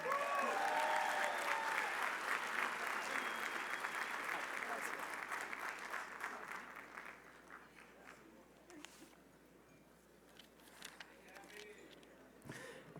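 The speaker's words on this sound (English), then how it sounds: "Gabi and Nelson, let's give them another round of applause." Audience applause at an awards gala for honorees Gabi and Nelson, a full room clapping loudly and steadily at first, then thinning and fading over several seconds, with faint voices underneath.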